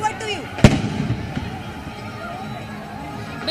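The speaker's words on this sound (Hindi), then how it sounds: "यहाँ पे तो आतिशबाजी हो रही है" Fireworks go off at Mahadev Ghat in Raipur during Chhath Puja: one sharp, loud nearby bang, then fainter crackles and pops over a busy outdoor crowd while someone talks.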